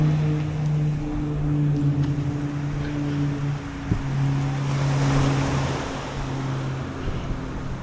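Ocean surf and wind along a beach boardwalk on Puerto Rico's coastline toward Loíza, a steady wash of breaking waves with gusty wind noise on the microphone and a low engine hum underneath, no talking.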